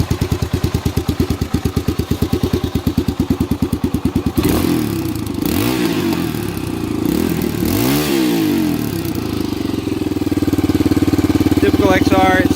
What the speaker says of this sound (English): There's no other noises other than the exhaust.